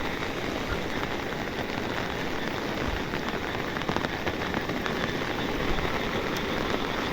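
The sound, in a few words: heavy rain falling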